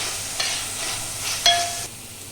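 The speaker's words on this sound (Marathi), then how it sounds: "हे सर्व साहित्य घालून 2 मिनिटं परतवायचे." Onion sautéing in a pan with other ingredients for a couple of minutes, a steady close sizzle broken by a few light stirring scrapes and clinks.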